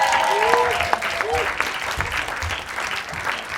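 Festival audience applauding a stage act, a dense spread of clapping with a few whistles and cheers on top, loud and steady throughout.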